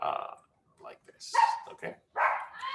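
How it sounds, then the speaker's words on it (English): A pet dog barks indoors in a few short, close yaps, interleaved with a person speaking. "Sorry about my dog."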